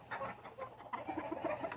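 A backyard flock of chickens, Houdans among them, clucks softly in short scattered calls at a moderate distance, fairly quiet with no talk.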